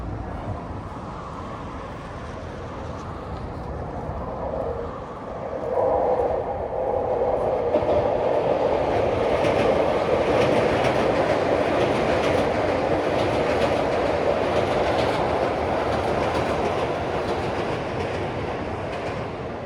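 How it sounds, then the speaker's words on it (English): A train on Tokyo's Yamanote Line rumbles past nearby with a steady roar and rhythmic clatter of wheels on track, growing louder and staying loud for a long stretch. "See lots of trains come through."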